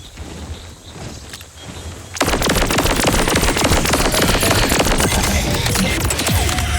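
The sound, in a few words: sniper rifle fire in video game Borderlands 4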